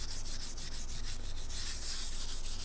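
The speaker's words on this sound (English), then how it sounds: "Next, I'll clean the file with a wire brush" Wire brush scrubbing a guitar fret file during a neck reset, a steady continuous scratchy rubbing with quick repeated strokes, close and alone without talk.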